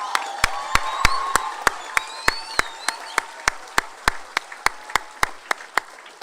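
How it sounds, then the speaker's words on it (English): Graduation audience applauding faculty members, with sharp claps falling into a steady, evenly spaced rhythm over a wash of crowd noise and scattered voices. "now another huge round of applause for the faculty members who dealt with you every single day"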